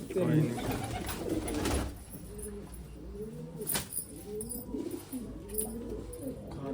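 A newly paired couple of Teddy golden dub pigeons coos in repeated soft, rolling calls, close and fairly loud, with a brief voice at the start.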